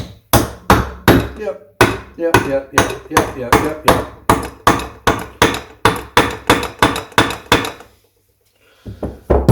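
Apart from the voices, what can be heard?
hammer tapping Triumph Trident T150V engine timing case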